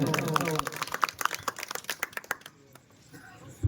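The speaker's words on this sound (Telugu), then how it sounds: "ఒకసారి గట్టిగా చప్పట్లు కొట్టి వెంటనే సైలెంట్ గా కావాలి" Audience at a memorial meeting for a singer clapping loudly in a dense burst of applause that quickly thins into scattered claps and then falls nearly silent.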